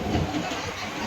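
Inside a Mumbai local train, a low steady rumble of carriage motion runs through the short stretch without distinct clatter.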